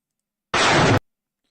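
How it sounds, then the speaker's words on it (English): An explosion in war footage from Ukraine comes as a single loud, broadband blast lasting about half a second and cutting off abruptly, with no voices over it. "You can see the camera actually panning from the explosion right there."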